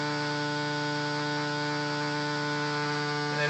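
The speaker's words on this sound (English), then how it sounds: "keep feeding the feedback loop, and you see it climb up, and adds lots of distortion" A sustained, gritty distorted synth feedback loop drone with a stack of steady buzzing harmonics holds at an even, loud level throughout, swelling slightly at the very end.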